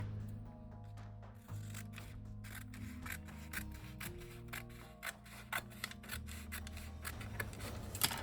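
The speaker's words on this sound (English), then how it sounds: "you can actually take both of the intermediate pages and just go down this line here and just cut it." Scissors cut down a line through the paper pages of a journal, giving close, quiet snipping and rustling scrapes in an uneven rhythm, with no speech.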